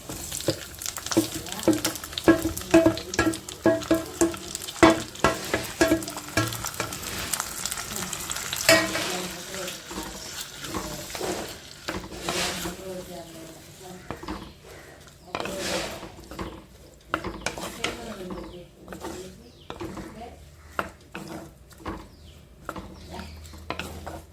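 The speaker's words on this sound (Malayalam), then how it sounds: "അതിലേക്ക് അരിഞ്ഞു വെച്ചിരിക്കുന്ന തക്കാളിക്ക് ചേർത്ത് കൊടുക്കാം" Chopped tomatoes fry and sizzle in a pan while a spoon scrapes and stirs in uneven clattering strokes for a tomato pickle, the activity easing off toward the end.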